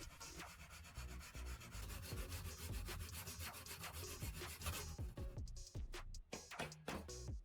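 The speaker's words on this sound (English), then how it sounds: "The cut edges are still rough, so I smooth them slightly again using sandpaper" Sandpaper rubs over the rough cut edges of small carbon blocks, a series of quick scratchy strokes close up, fairly steady at first and then breaking into shorter, separate rubs toward the end.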